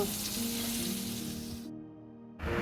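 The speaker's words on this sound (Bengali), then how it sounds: "আর হালকা করে এটাকেও ভেজে নেব" Paneer seasoned with salt fries in a pan for a vegetarian paneer curry, giving a steady close sizzle that cuts out abruptly near the end before briefly returning.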